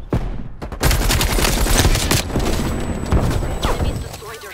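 A light machine gun fires in Call of Duty Black Ops Cold War, loud rapid bursts with sharp booms layered over continuous gunfire, while players talk over the shooting.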